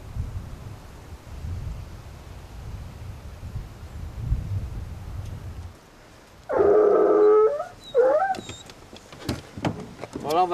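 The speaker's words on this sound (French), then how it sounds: "Voilà, on va lâcher les chiens." Mixed-breed hunting dogs, including terriers, fox terriers and griffons, released at a deer drive hunt in Aubrac. Low rumbling first, then a sustained mid-range howl and yelps, fairly close.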